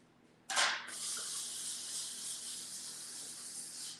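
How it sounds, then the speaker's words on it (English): Aerosol cooking spray released in a home kitchen: a single sustained, bright hiss starting after a short quiet moment and continuing steadily, fairly close, with no talking over it. "And I just use like spray,"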